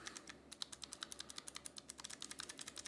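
Sharp, bright clicks from Outemu Gold clicky mechanical switches follow one another in a fast, regular rhythm of keystrokes, near and distinct, with a few closely spaced clusters toward the end.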